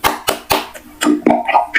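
A third-grade class claps along in a steady beat to the children's song "Kalau kau suka hati" during an Indonesian-language lesson, sharp claps close and regular, with singing voices rising over the later claps.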